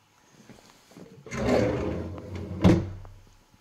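A wooden kitchen cabinet door or drawer in a house is pulled open with a rumbling slide, then shut with a sharp knock, close by and with no talking.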